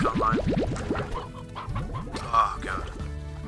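Hens cluck in the game Slime Rancher, quick repeated clucks in bursts, close and clear with rapid rhythmic patterns and a brief louder squawk near the middle, no talking.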